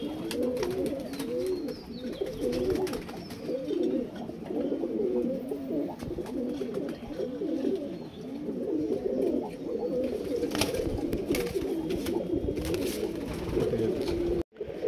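Madrasi pigeons in a loft give continuous overlapping low coos, several birds rolling and burbling together at close range, steady and moderately loud for the whole stretch.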